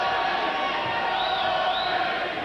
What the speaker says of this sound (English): Listen to the anticipation of the crowd.